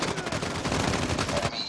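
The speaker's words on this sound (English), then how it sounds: "A gunshot!" Rapid automatic gunfire in Call of Duty Mobile on the Shipment map in a 10 vs 10 match, a dense, loud burst of shots that fills nearly two seconds before cutting off.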